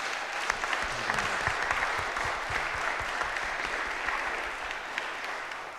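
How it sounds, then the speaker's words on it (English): Sustained applause from the crowd at the Elite 1 Wall 2022 handball finals, a thick, steady roar of clapping with a few louder individual claps, holding strong before tapering slightly near the end. "let's get a round of applause for Dan and his team there as well"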